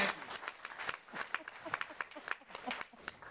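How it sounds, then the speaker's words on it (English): A modest audience gives a round of applause, with a scattering of distinct hand claps at moderate, fairly quiet volume and uneven rhythm. "So big round of applause for Terry and for John and Becky."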